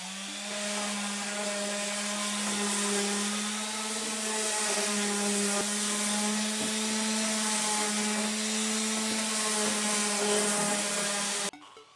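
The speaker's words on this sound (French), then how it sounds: "ce que je vais venir faire, c'est poncer les deux tasseaux" A power sander works two wooden battens with a steady, close whine and humming drone that runs unbroken, then cuts off just before the end.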